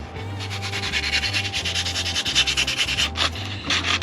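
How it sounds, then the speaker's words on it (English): A metal slug is sanded before welding on a Ford 5.4 L cylinder head, with the anodized and corrosion layer taken off. The close, steady rasping strokes repeat in a fast rhythm. "Does need a quick sand though."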